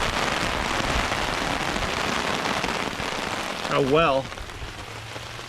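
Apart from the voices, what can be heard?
heavy rain downpour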